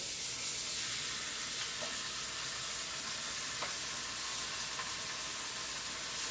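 Steak just flipped in a hot pan, giving off a steady close sizzle and hiss with a few faint clicks, constant and unbroken with no talking.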